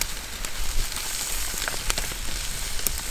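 Chopped onion and lardons sizzle on a hot cooking stone at a mountain bivouac, a steady close crackle of frying fat with a few sharper pops and no voices.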